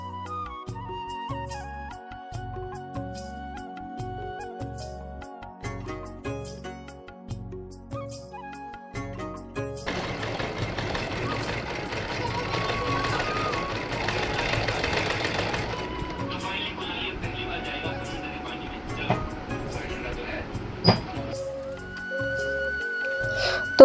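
A sewing machine stitches a saree, its needle running in a fast, steady mechanical chatter for several seconds in the middle, with quieter handling sounds before and after.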